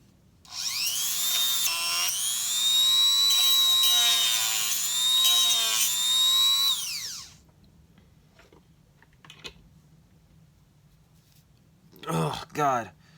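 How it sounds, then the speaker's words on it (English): Dremel rotary tool sanding dried Gorilla Glue, a loud high-pitched whine that holds for several seconds and then cuts off, followed by quieter handling clatter and a couple of brief knocks. "never sand down with a Dremel kit. Never sand down Gorilla Glue."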